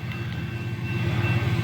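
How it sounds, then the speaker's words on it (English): A train rolls past a railroad crossing with a steady low rumble and a faint sustained tonal hum, close and continuous for the whole short stretch. "There's another train coming."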